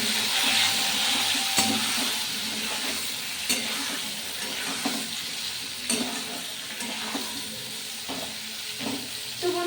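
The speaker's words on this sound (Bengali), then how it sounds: "নুন আর হলুদ দিয়ে আমি এটা নেড়ে চেড়ে ভেজে মিশিয়ে নেবো" Pointed gourd frying with turmeric and salt, stirred in a pan: a steady sizzle under repeated scraping and clacking of a spatula, with occasional louder knocks.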